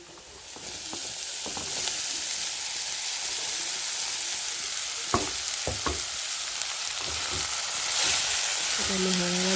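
Chopped vegetables dropped into a hot pan sizzle and fry with a steady, close crackle, broken by a few knocks of a spatula stirring them for a home-cooked Assamese breakfast.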